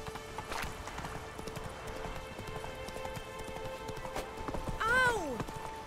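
A horse gallops in The Witcher 3 video game with rapid, quiet clip-clop hoofbeats, and a brief whinny-like sweep rises near the end.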